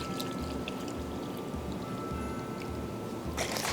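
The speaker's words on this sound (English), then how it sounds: "And we'll pour in 1 cup of unsweetened soy milk." Unsweetened soy milk is poured into a bowl of dry pancake ingredients, a steady soft liquid stream running through the whole stretch, with a louder splashing pour near the end.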